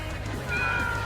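A short cat meow sounds when a cat is petted in the video game Deltarune, a single brief call rising over a steady low background hum.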